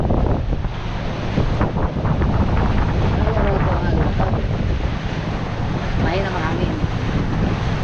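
A small boat at sea is pounded by big ocean waves while strong wind buffets the microphone, a loud continuous roar with crashing surges, and someone speaks briefly over it.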